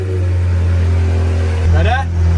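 A crash-damaged Ferrari F430, partly rebuilt, runs steadily in a workshop with a low, constant engine drone; a voice speaks over it near the end.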